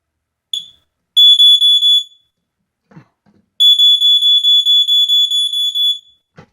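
A household smoke detector sounds its test alarm: a short chirp, then two piercing high-pitched beep bursts, the first about a second long and the second a longer pulsing run of rapid beeps, with a brief clunk of handling between them.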